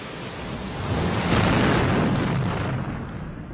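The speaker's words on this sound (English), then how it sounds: "These erupt when magma below forces its escape." A volcano erupting with an explosive blast, one broad, roaring rumble that swells and holds for several seconds before easing slightly, heard alone.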